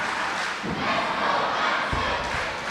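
A wrestling crowd roars and shouts around the ring at a live Irish Whip Wrestling show, a loud, continuous wash of voices punctuated by a couple of heavy thuds from the mat.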